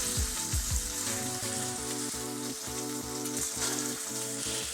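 Pork chops sizzle steadily in a hot pan with butter, a dense continuous crackle and spatter heard close up, with some faint background tonal hum underneath.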